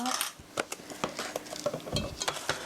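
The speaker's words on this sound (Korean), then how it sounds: "고루 섞어주시고요" A utensil stirs an egg mixture with apple cider vinegar in a bowl for cheese hamburger steak, making quick, irregular clinks and taps against the bowl.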